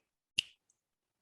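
A single crisp finger snap during a hypnosis session, a sharp close click in a quiet room followed by a faint tiny tick.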